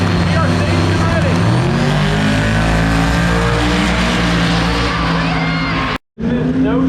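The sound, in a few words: drag racing car launching down the track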